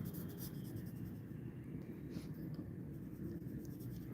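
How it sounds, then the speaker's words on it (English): Pencil strokes on paper while sketching quick action poses: a steady, close scratching that continues throughout at low level. "I'm just drawing these quick poses"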